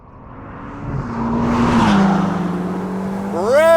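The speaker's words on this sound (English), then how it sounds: "That's what you do with a Ferrari, right? You rev!" Ferrari Roma Spider with a flat-plane crank engine revs up, its note climbing steadily and swelling to a loud, close peak before rising harmonics sweep upward at the end.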